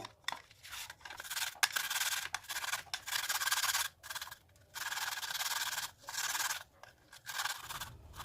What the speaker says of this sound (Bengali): কুরুনিতে ঘষে ঘষে অ্যালোভেরার জেলটি বের করে নেব